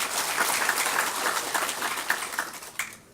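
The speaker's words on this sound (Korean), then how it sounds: "박성재 위원장님께 다시 한번 심찬 박수를 부탁드리겠습니다" Applause at a Gangwon Province Residents' Day ceremony, a fairly close crowd clapping that starts dense and then thins into scattered individual claps before fading out.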